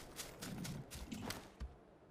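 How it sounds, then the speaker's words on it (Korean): Footsteps in the PUBG video game on a Sanhok map, heard as faint irregular thuds and scuffs within a low background of game noise. "요 발소리"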